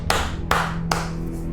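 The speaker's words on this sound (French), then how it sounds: "Je vais faire qu'applaudir cet épisode" Three slow, deliberate hand claps, close and crisp, spaced about half a second apart over a low steady hum.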